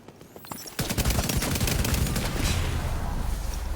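Sustained rapid assault rifle fire in The Division 2, a dense loud burst of shots that starts abruptly under a second in and keeps rattling continuously to the end.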